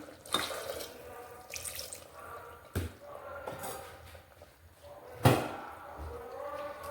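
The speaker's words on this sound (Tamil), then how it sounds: "இன்னும் கொஞ்சம் தண்ணி ஊற்றிக்கலாம்" Water runs from a kitchen tap into a sink or vessel while dal and mutton kurma are cooked in a pressure cooker, short bursts of splashing broken by sharp clanks of metal pots.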